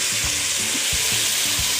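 Peas, corn, green beans and potatoes tumble into a hot stew pot, setting off a steady, close sizzle with a few soft thuds as the vegetables land.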